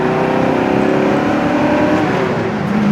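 A 1971 Oldsmobile 442 engine drones steadily and close, its pitch shifting slightly as gears change, a continuous loud mechanical hum with no speech.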